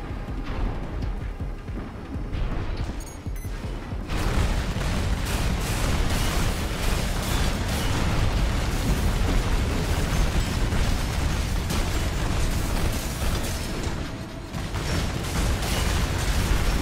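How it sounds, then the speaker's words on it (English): Missile hits in Armored Core VI: Fires of Rubicon ranked PvP burst in a dense, loud barrage of explosions, one overlapping roar of booms and mechanical clatter that runs on without a break. "Getting hit by those missiles after the stagger really hurt."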